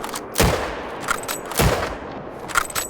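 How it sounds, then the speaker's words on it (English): Valgarda 375 bolt-action rifle in theHunter: Call of the Wild firing two loud, sharp gunshots about a second apart, each with a booming low tail and brief echo, followed by quieter mechanical clicks from working the bolt. "Now on to the final rifle of the pack, the Valgarda 375"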